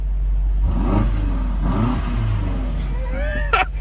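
A BMW M8 Competition coupe revs and accelerates, the engine rising in repeated sweeping pulls close by, over a low constant rumble, before a brief sharp burst near the end.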